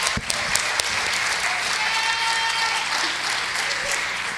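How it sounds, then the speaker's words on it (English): An audience claps in dense, steady applause for several seconds, loud and close, with a few sharper individual claps standing out at the start. "go ahead and give my escort, Jet McClaskey, a round of applause."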